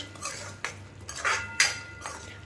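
Spoon stirring chole masala in a pan over high flame, a few distinct metallic scrapes and clinks against the pan at irregular intervals, close and moderately loud with no voices.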